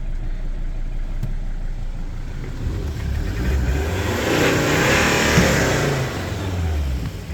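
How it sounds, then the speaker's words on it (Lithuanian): A Volvo S80 with 329,378 km on the clock runs its engine close by, a steady low rumble that swells into a rev midway and then settles back toward idle. "Variklis užsiveda ir dirba gražiai."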